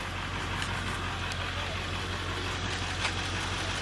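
A 7.3 diesel truck engine idles in a steady, dense low rumble that stays constant and close throughout, with no clear speech over it.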